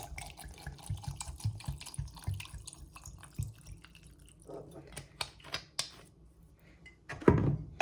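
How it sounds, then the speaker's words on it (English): Apple cider vinegar poured over a fire cider mixture in a jar, heard as soft, close drips and trickles with light splashing, growing to a louder splash near the end. "So we're just gonna pour it over the mixture until it covers it."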